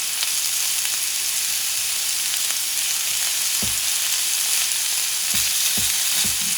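Honey glaze sizzles on sausages and ribs on a cast iron griddle, a loud constant frying hiss with a few soft clicks and taps of a utensil near the end.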